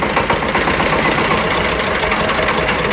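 Close, loud idling of a ZS1100NM single-cylinder diesel engine used on Shifeng SF 160 and Bulat SF 200 tractors, a fast, even knocking thump running unbroken with no speech.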